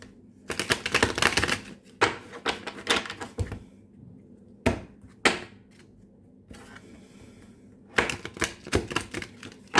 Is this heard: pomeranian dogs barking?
no